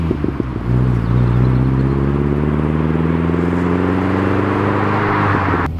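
Turbo-converted Ford Sierra Sapphire heard from inside the cabin while driving, a steady, muffled engine drone that rises gently in pitch as it accelerates, loud and continuous with no talking.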